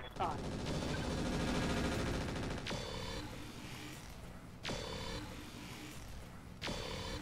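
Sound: gunfire shots in the video game Roguepoint

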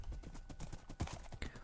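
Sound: horse hooves trotting, from a video game

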